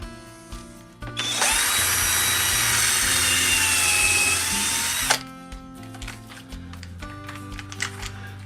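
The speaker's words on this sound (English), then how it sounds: "Cordless drill is a wonderful thing." A cordless drill drives a screw into birdhouse wood with a loud, steady whir for about four seconds, set between quieter handling knocks and clatter.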